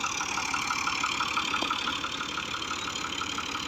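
A Fiat 640 tractor idles with a steady, even engine drone, moderately close and continuous, during the rescue of a stuck Fiat 480 tractor on a farm road.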